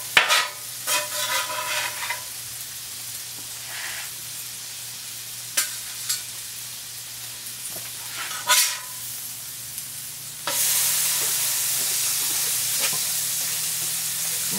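Onions scraped and gathered with a spatula on a hot Blackstone griddle while burgers cook, giving a few sharp metal scrapes over a steady sizzle that turns into a loud hiss near the end.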